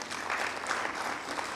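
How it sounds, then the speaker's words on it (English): Applause at a national HIV and AIDS symposium for Flavia, a brief, even wash of many hands clapping, fairly soft and distant throughout, with no voices. "Very big round of applause to Flavia."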